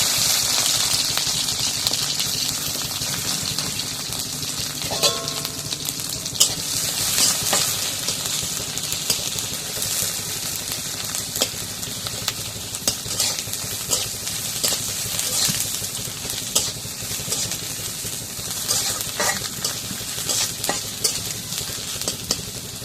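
Pieces of goat meat fry and get stirred in hot oil, giving a dense, continuous sizzle with repeated spatula scrapes and a few clanks against the pan, all close and loud.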